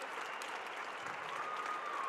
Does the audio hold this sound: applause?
yes